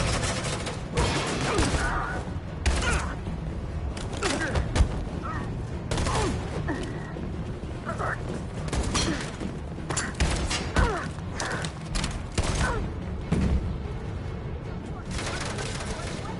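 Gunfire in the video game Detroit: Become Human: scattered shots and sharp bangs mixed with clanks and crashes over a constant rumble, with voices shouting in between.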